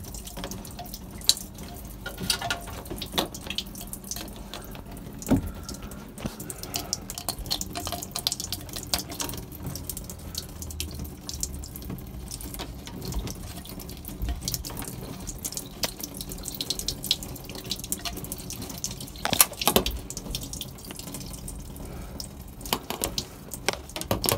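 Water flows steadily and splashes out while a Mercruiser 5.7L boat engine is being winterized, a continuous close gushing that keeps going throughout with small surges and drips.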